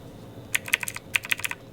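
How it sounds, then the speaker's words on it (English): Clicky blue-switch mechanical keyboard typed in two short bursts of crisp, close keystrokes separated by a brief pause, with no talking. "it has the whole blue switch keyboard clicky"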